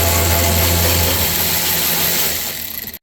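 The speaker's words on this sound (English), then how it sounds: "Start the car." A car engine runs steadily and loud at close range, a low idle hum with a mechanical rattle, then tails off and cuts out near the end.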